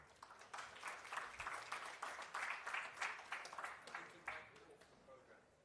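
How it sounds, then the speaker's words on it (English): Faint, distant applause from an audience at an urban conference session, light individual claps in an irregular patter that fades toward the end, with a voice faintly present underneath. "A big round of applause for Mr. Hamish Eskini."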